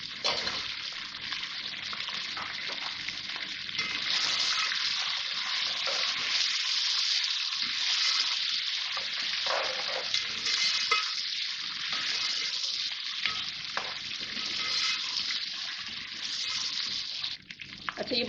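Potatoes and green chilies fry in a hot pan, giving off a steady, dense sizzle that continues without break, with no talking.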